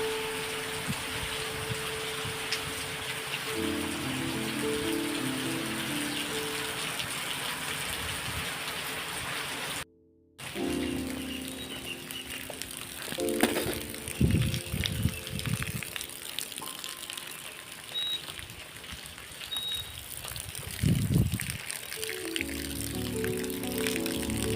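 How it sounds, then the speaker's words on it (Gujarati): Heavy rain falling steadily and loudly outdoors during a monsoon downpour, a continuous broad wash of drops with a brief dropout and a few louder gusts of splashing. "અત્યારે વરસાદ ચાલુ જ છે."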